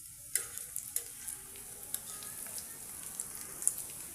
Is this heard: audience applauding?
no